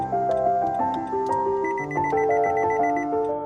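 A Lonsdor K518 Pro key programmer's buzzer beeps while smart keys are added to a 2018 Nissan Teana, giving a steady run of electronic tones that step up and down in pitch, loud and with no voices.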